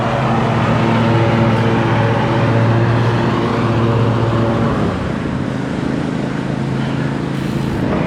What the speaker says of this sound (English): I gotta get away from all these cars. They're too loud.